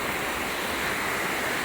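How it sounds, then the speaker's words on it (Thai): Heavy rain driven by strong wind falls on a village in Buriram, Thailand, heard as a brief, unbroken hiss of dense rainfall, steady and fairly close. "ฝนตกอยู่ครับ"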